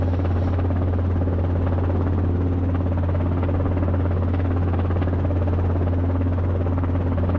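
A helicopter lands smoothly, its rotor and engine producing a constant loud buzzing drone with a strong low hum that holds steady throughout.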